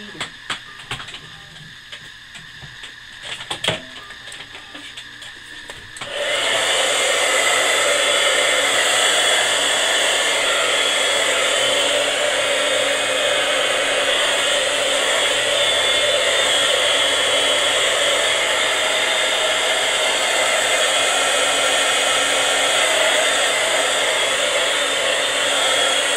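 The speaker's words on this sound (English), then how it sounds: "we're going to dry again. What did I do with my heater?" A handheld heat tool used for drying a watercolor painting starts after a few seconds of faint clicks and handling, then blows as a loud, steady, close whooshing roar for the rest of the clip.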